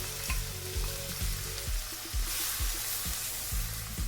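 Diced ham, butter, onion and flour sauté together for a croquette roux, a continuous sizzle broken by repeated, rhythmic scrapes of a spoon stirring through the pan, with no voices.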